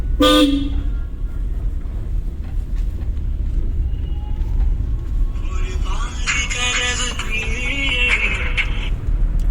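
A car horn toots briefly at the start over a steady engine drone during a driving lesson, then a blaring horn-like tone sounds later amid road noise.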